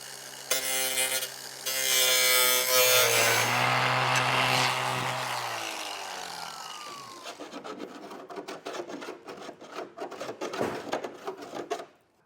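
A flap disc grinds and smooths the cut edge during an ARB Safari snorkel install on a 2023 Jeep. A loud, whining tonal spin gives way to a rough, uneven rasping scrape that continues near and alone until it cuts off.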